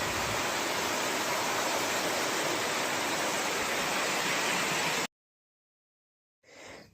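Heavy rain falls at night while a sick cow is treated with saline, a loud, steady, close hiss that cuts off abruptly after about five seconds, then briefly returns near the end. No voices.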